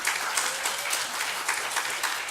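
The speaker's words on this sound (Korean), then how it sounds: "박수 한번" Church congregation clapping together in a steady, dense burst of applause, filling the room evenly without any clear voices.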